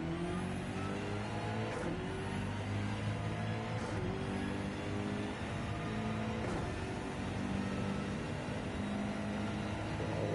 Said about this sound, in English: And listen to the engine here.